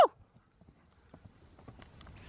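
Horses' hooves clip-clop softly on the ground in a quick, uneven rhythm, faint and fairly distant, after a short sharp sound at the start.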